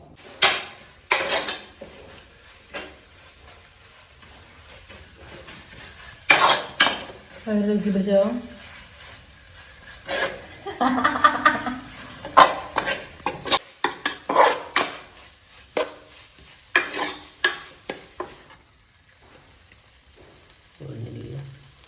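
Four finely sliced onions sautéed in a pan for chicken curry, with intermittent clanks and scrapes of a spoon against the pan over a soft sizzle, broken by occasional bursts of stirring; a voice speaks briefly in places.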